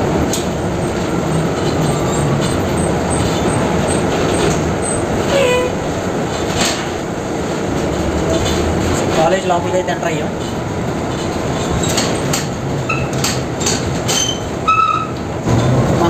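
A steady interior rumble of a bus rolling into the Wichita State University campus, with occasional squeaks and clatter as a person talks over the ride.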